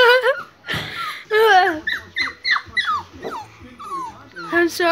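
A dog whimpers and yips in short, high, wavering cries, close by and repeated throughout, mixed in with a person talking to it.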